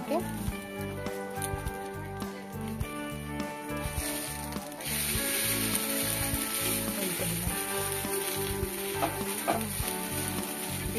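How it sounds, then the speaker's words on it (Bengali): Potato chilla, a flat potato pancake brushed with a little oil, fries in a covered pan, giving a steady close sizzle that runs throughout beneath a busy, tonal background. "এই পাশটাকেও 2-3 মিনিট ঢাকা দিয়ে ভাজা করব"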